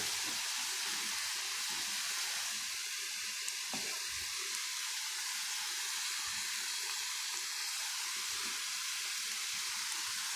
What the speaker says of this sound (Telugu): ఇప్పుడు అల్లం వెల్లిపాయ పేస్ట్ వేసుకుందాము